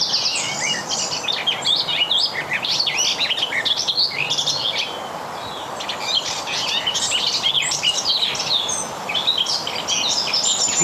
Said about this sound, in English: So what we're listening out for garden warbler is this.